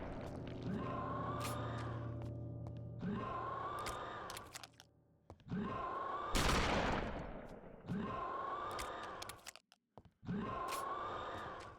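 Gunfire in the GameCube game Eternal Darkness: several sharp shots repeat at a regular pace, each followed by a ringing tail and strained character groans, with one louder blast near the middle, all fairly close.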